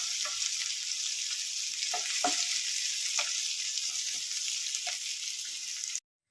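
Onion and tomato sauté in a pan for a chicken parts fry, a steady close sizzle running throughout with a few soft stirring scrapes, then cutting off abruptly near the end.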